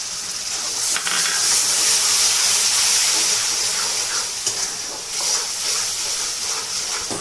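Tomato gravy going into a pan of broccoli and peas fries with a steady, loud hiss and sizzle that swells a few times as it spreads, with no talk over it.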